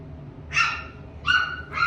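A litter of five puppies gives three short, shrill barks with a whimpering edge, spaced about half a second apart and close by against quiet room noise.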